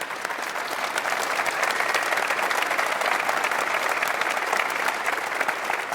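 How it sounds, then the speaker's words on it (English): A theatre audience at an international barbershop quartet finals claps in a dense, sustained wave of applause that stays loud and even from start to end. "Yes, round of applause,"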